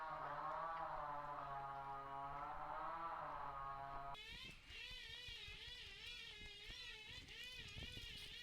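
Cats resting on a deck in Malawi let out long, wavering meows, two drawn-out calls heard up close one after the other, with no talking.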